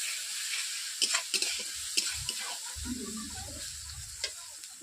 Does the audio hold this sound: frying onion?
yes